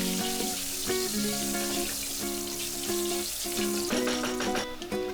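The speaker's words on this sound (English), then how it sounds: "Add half tablespoon cumin seeds, 5 green cardamom, 6 cloves, 1 maize spice, and fry this for few seconds" Cumin seeds, green cardamom pods and cloves fry in hot oil in a pan, giving a steady, close sizzle that runs the whole time beneath louder background music.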